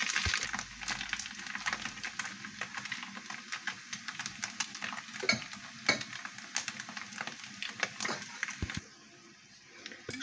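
Continuous sizzling of onion and crab sticks frying in a pan, with crackles and occasional stirring clicks, close up, then briefly quieter near the end.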